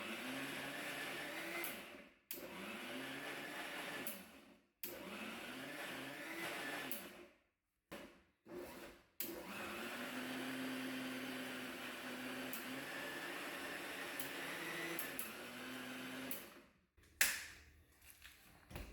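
A kitchen grinder blends almond chutney with water in steady whirring runs broken by short pauses, the motor pitch shifting as the mix thickens, fairly close with no talking.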